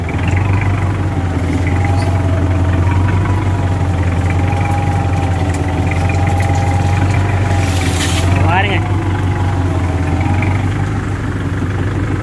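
A vehicle engine in the Free Fire Max game as it reverses: a loud, steady drone that holds its pitch, with a brief rising whine near the end and a voice talking over it.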